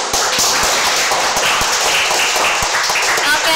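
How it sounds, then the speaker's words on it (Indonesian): A room of people claps for a product launch event's open beta announcement, a steady wash of hand claps with a few sharper nearby claps standing out over continuous applause. "Tepuk tangan dulu dong teman-teman."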